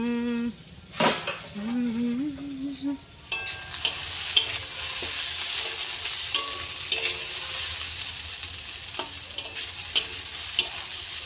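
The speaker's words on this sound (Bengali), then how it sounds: "ভাজা বসিয়েছি, পেঁয়াজ কলি আর আলু ভাজা।" Onion stalks and potatoes fry in a pan, giving a steady sizzle broken by frequent metal clinks and scrapes of a utensil. A short tonal, voice-like sound is heard over the first few seconds.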